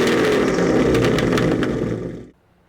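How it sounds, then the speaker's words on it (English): Supercharged Ford Mustang GT with a Whipple blower and Corsa exhaust, heard at the tail end as a loud, steady engine rumble with a brief rev that cuts off abruptly into near silence. "I absolutely love the sound that this Corsa exhaust gives the Mustang."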